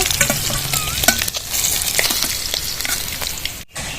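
Rui fish pieces fry in hot oil until reddish, giving a loud, close, continuous sizzle and crackle, broken by occasional scraping stirs and a brief dip near the end.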